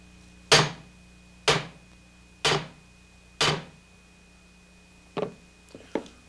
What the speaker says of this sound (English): I raise the hammer far enough so that it comes down with sufficient force